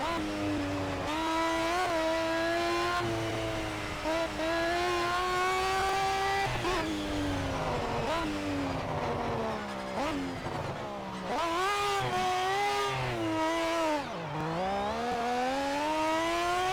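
Race car engine in the Project Cars video game, revving continuously with rising and falling pitch as it shifts gears, loud and close throughout with brief dips between pulls.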